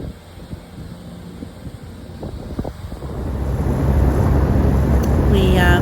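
An airboat riding on Lake Okeechobee in Florida: a broad roaring engine and propeller rumble with rushing wind that builds steadily louder toward the end, after a few soft knocks at the start.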